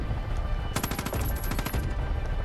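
Automatic gunfire in the video game Far Cry 5: a rapid, loud burst of shots lasting about a second over a busy game background.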